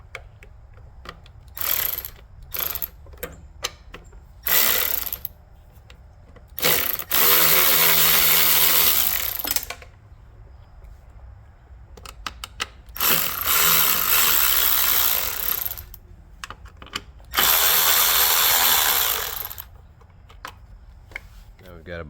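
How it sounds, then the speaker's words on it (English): Bolts being removed from a Honda EU3000is generator with a 10mm deep well socket on a ratchet or power driver, in several separate loud bursts of a few seconds each, with quieter gaps and handling noise between them. "So we got 10mm deep well. I'm going to go ahead and remove those bolts."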